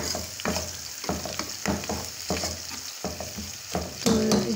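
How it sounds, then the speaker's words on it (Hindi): Garlic, two tablespoons, fries in oil with browned onions, a close sizzle broken by rhythmic scraping strokes of a spoon stirring the pan. "अब मैं इसमें लहसुन डालूँगी। लहसुन डाली है मैंने 2 टेबल स्पून।"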